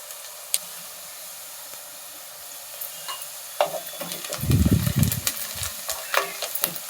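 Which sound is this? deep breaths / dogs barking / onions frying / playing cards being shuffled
onions frying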